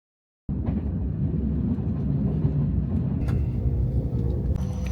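Steady, loud interior rumble of the Al Boraq high-speed train running through Morocco, a dense continuous roar with faint rattles and a brief rising whine near the end, no voices.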